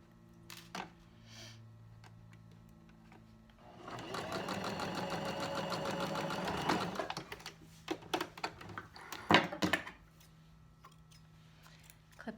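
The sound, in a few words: sewing machine stitching a seam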